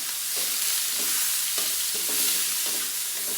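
Onion and garlic sautéing together in a pan for pork-hock adobo, giving a loud continuous sizzle broken by a rhythmic run of spatula scrapes.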